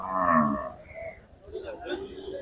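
A cow with her calf at a cattle sale gives a low, fairly close moo, followed by softer lowing and faint background noise of the market.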